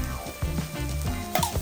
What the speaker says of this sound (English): We're gonna throw a tablespoon of sesame oil, a tablespoon of soy sauce, and a half a tablespoon of oyster sauce